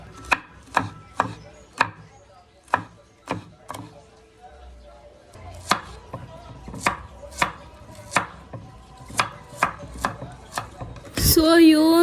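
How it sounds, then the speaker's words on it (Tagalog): A knife chopping garlic and onion on a board, with a dozen or so distinct, close, evenly spaced chops at a relaxed pace, ending in a short clatter. "maghihiwa naman po ako ng bawang at sibuyas"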